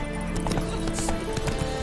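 Hooves of the horse Roach clip-clop in a quick, steady galloping rhythm in The Witcher 3, loud and close throughout.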